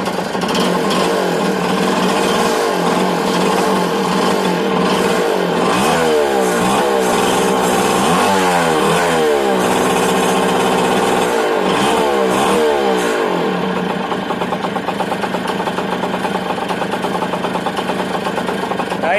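The engine of a 1981 Yamaha YB50 motorcycle, rebuilt new years ago, runs close by with a loud rattling putter, rising in several brief revs before settling back to a steady idle, and a voice is heard partway through.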